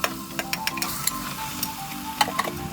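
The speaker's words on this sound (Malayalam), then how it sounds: "ചിക്കനെ നല്ല രീതിയിൽ മസാലയായിട്ട് മിക്സ് ചെയ്യാൻ വേണ്ടി നല്ല രീതിയിൽ ഇളക്കി കൊടുക്കുക" Chicken sizzles in a pan as it is stirred with biryani masala: a constant frying crackle broken by scattered sharp clicks and scrapes of the spoon, close and moderately quiet, with no talking.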